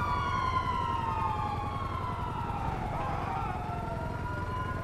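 Several police sirens in a video game wail at a distance, their tones gliding slowly and overlapping over a low rumbling hum.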